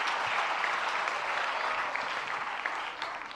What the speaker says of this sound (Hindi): जरा सभी मिलकर जोरदार तालियां।